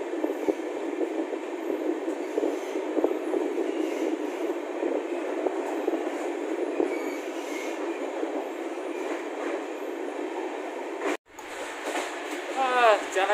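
Passenger train running on a rail journey after lockdown, with a steady loud rumble and clatter of the carriage throughout, a brief dropout near the end, then squealing wheels. Voices talk faintly under the noise.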